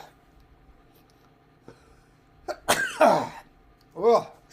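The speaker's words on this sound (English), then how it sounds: "I got sneezes." A man sneezes twice in quick succession, sharp close bursts after a few quiet clicks, the second sneeze slightly softer and more drawn out, with no talk around them.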